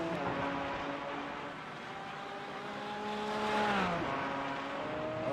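GT4 race cars circle the Long Beach street circuit, their engines droning steadily with rising and falling pitch as they rev, shift and pass, loud and continuous with no talk.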